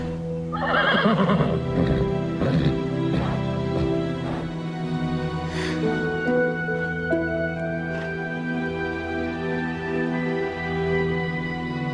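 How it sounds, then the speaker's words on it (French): A horse whinnies loudly and close up in a long, shaky neigh, followed by lighter hoof clip-clops and a sustained tonal hum under a quiet scene. "Tu es un grand cheval."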